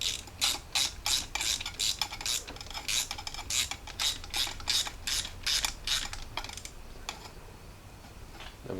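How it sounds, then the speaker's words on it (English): A ratchet tightens 14mm nuts on an alternator cable in a Hemi Jeep Wrangler JKU, giving a close run of rapid, rhythmic clicking bursts, about a dozen quick strokes that slow and fade toward the end, with no talking. "Now I just got to tighten this down."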